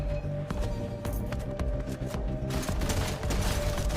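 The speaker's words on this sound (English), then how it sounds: "guys over there trying to shoot me" Gunfire in the video game Fortnite: a rapid, uneven string of close, loud shots and bursts over a dense, constant game soundscape with a steady tone running through it, and no talk.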